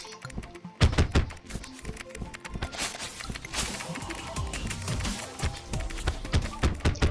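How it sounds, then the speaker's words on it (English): Rapid clacky keyboard key sounds used as a weapon's effect in modded Terraria, dense overlapping taps and thunks layered in quick irregular bursts, fairly faint and continuous with no talk. "All keyboard sounds."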